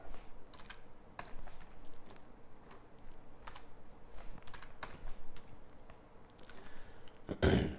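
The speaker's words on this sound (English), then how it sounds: "I'm going to press Control R here to loop cut again, type in 50, enter, escape" Keystrokes on a computer keyboard entering modeling shortcuts in Unreal Engine 5 work: scattered taps and short bursts of clicks at close range, with a louder clatter at the very end and no talking.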